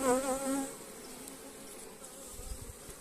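Honeybees swarming out of an opened hive with a shop super just lifted off, a close, steady buzzing drone with several higher wingbeat tones sweeping past near the start and faint handling knocks beneath.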